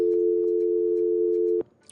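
A telephone busy tone sounds on a radio station's phone-in line, one steady loud beep held for about a second and a half before cutting off into quiet.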